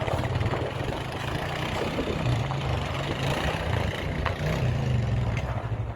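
A fuel-injected Honda ATV on new tyres runs its engine steadily at a low, throaty drone, loud and continuous without pauses.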